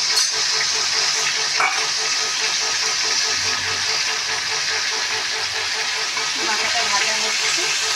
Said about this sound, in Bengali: মাথাটা ভাজা হচ্ছে